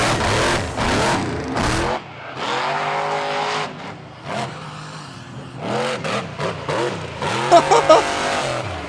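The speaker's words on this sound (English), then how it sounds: "Oh, that's a serious monster truck." A monster truck's big engine roars and revs loudly in repeated surges, with rising and falling pitch sweeps and occasional tire noise, loud and close throughout.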